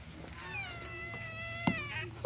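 A pet cat meows repeatedly with drawn-out, harmonic-rich calls in an indoor room, fairly close and clear, followed by a brief sharp knock and a louder final burst at the end.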